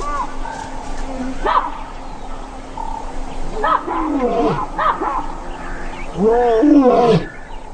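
Male lions roar warnings in the wild, giving several deep, grunting roars in rising and falling bursts, moderately close, with pauses between them.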